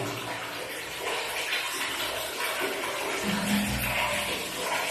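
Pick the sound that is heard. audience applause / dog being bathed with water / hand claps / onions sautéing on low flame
dog being bathed with water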